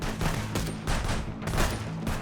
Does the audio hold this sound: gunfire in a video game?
yes